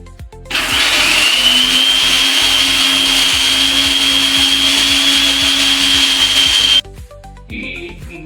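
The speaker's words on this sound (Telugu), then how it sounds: "ఇప్పుడు మిక్సీ పడదాం." A kitchen mixer grinder blends wheatgrass with half a cup of water, a loud steady motor whine that starts abruptly, runs for about six seconds, and cuts off, followed by faint clatter.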